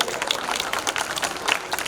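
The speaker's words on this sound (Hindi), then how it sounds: "एक बार फिर से ताली हो जाए रुस्ता के लिए" An audience at an Independence Day celebration event applauds with dense, steady clapping throughout, fairly loud and crowd-wide.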